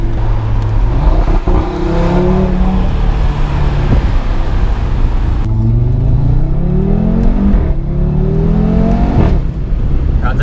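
An Audi RS3 five-cylinder engine accelerates hard on a countryside road through forest, loud and close from inside, with rising pitch sweeps through several gear changes and brief dips between shifts.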